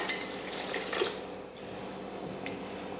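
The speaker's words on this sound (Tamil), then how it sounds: "கொஞ்சமாக குழம்புக்கு தேவையாக தண்ணி சேர்த்துக்கலாம்" Water splashing and trickling into a pot of curry, with faint drips and a steady liquid rush throughout, fairly close.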